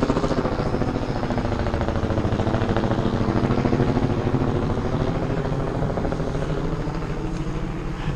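A helicopter flies overhead during a mountain military simulation game, its loud, rhythmic rotor chop continuing steadily and close throughout with no talk.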